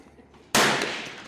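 A single sharp gunshot from a short-barrel rifle at a shooting range, sudden and loud after a quiet moment, with a decaying ring trailing off.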